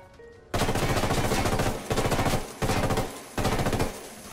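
Sustained automatic gunfire in Ghost Recon Wildlands, loud and close, coming as several long bursts with short gaps between them and no talk over it.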